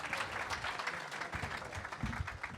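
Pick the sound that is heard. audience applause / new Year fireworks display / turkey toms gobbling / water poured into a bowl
audience applause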